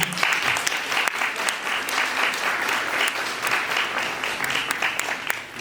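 Sustained, dense applause from a concert audience at a Ukrainian Defenders Day celebration, steady and full throughout with no voices rising above it.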